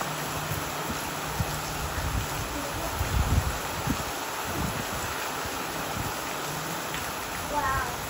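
Steady rain falls over mountainous countryside in the Dominican Republic, a continuous soft hiss with occasional low rumbles and a brief bird-like chirp near the end, and people talk quietly in the background.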